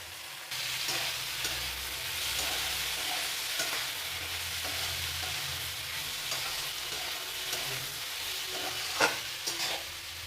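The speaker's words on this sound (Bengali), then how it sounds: "সবজি অনেকটাই ভাজা হয়ে গেছে," Capsicum, carrot, cauliflower and whole garam masala fry for mixed fried rice, a continuous close sizzle with occasional scrapes and taps from stirring near the end.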